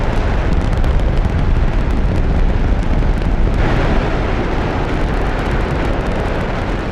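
Space Shuttle solid rocket booster firing: a loud, steady, continuous broadband roar that rumbles heavily in the low end and holds without a break for the whole stretch, with no voices.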